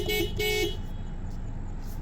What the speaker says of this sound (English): I'm gonna honk the horn in 3,